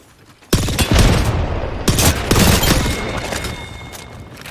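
A charging energy gun firing in Apex Legends: a sudden loud burst of rapid shots, a short break, then a second sustained volley that gradually fades.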